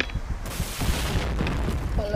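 Bomb explosions in the shooting video game Point Blank: deep, booming blasts with a rumbling low end, the heaviest starting about halfway through and rolling on under a voice talking.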